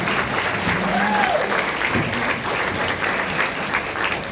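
An audience at a Dr. Martin Luther King celebration held by the California Legislative Black Caucus claps in a sustained, dense round of applause that continues steadily throughout.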